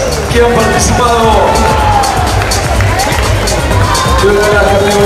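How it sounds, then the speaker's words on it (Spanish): Applause for three competing fit pairs at a Miss & Mister America IFBB bodybuilding cup: a loud, close crowd roar with cheering, whoops and excited voices, sustained throughout. "Fuerte el aplauso para las tres parejas que han participado"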